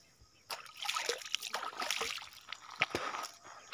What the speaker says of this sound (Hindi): देखिए नदी है छोटा नदी है दोस्तों ये वाला, और पानी बहुत कम जा रहा है